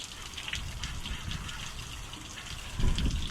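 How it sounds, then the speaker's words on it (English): Water sprays from a hose into an excavator's open engine compartment, producing a steady gushing, splattering wash over metal with a brief heavier burst near the end. "just hose it out. I like using a light wash"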